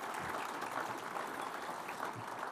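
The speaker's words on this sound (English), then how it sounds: "give yourself a round of applause for that." Convention audience at a Saskatchewan Party convention applauding in a steady, dense wash of clapping that holds evenly throughout, fairly distant and moderately loud.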